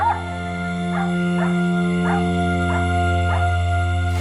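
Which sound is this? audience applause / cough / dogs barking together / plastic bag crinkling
dogs barking together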